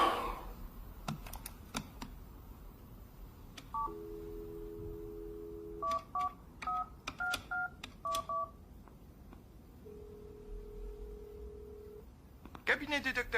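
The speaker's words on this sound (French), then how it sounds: "Le docteur Cooper attend mon coup de téléphone" A telephone being dialed, with a quick series of separate touch-tone beeps, a couple of longer steady tones between them, and faint clicks, heard fairly close with little else around.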